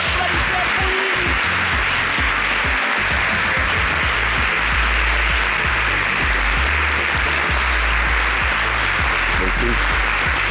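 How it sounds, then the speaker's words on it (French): A talk-show audience claps loudly and continuously to greet a guest, dense applause with some voices mixed in, filling the whole stretch. "Applaudissez pour lui."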